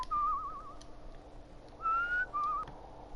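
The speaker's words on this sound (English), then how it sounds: "Can do some whistling." Whistling in a video game, a few bright melodic phrases of a single whistled tone in short bursts with pauses between, fairly quiet over faint background noise.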